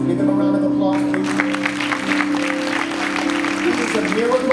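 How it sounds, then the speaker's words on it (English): An audience at a launch event at Eastwood applauds a singer-producer. The applause swells after a moment and keeps going over a steady held musical drone, with a crowd-like wash throughout. "Give him a round of applause, please."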